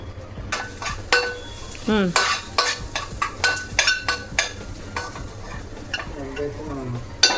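Chili powder frying in a pan for a home-cooked egg dish, a soft steady sizzle broken by repeated scrapes and clinks of a spoon stirring against the pan, close by.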